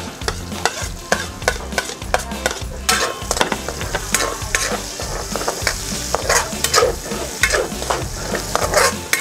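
Garlic frying until crisp in a pan, a steady close sizzle broken by frequent sharp scrapes and clacks of stirring, with no talking.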